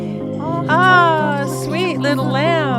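A young lamb bleats in wavering, quavering cries among sheep in Ordu, Turkey, several calls overlapping close by with no talking.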